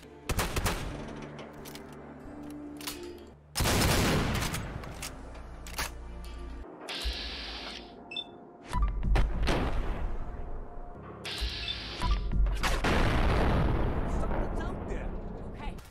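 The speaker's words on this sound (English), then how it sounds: "replace the vanilla double barrel shotgun sound with something a bit more powerful, and this is what that's going to sound like" Fallout 4 double-barrel shotgun replaced by the Power Double Barrel mod, firing several loud, booming blasts with heavy rolling tails, spaced a few seconds apart, close and dominant.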